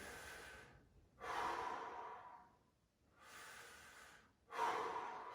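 Deep breaths drawn in during a fascial stretching exercise, four long airy inhales in a steady rhythm, close and clear with no talking over them.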